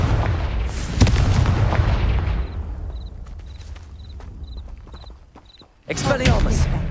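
Confringo spell explosions in the video game Hogwarts Legacy: a heavy, close boom near the start, a quieter stretch with faint rhythmic chirps, then another loud blast at the end, with voices around them.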